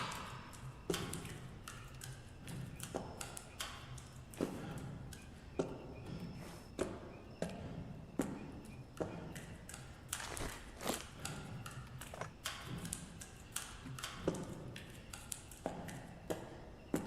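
Water drips steadily in a video game, a long run of faint, evenly spaced taps against a low ambient background.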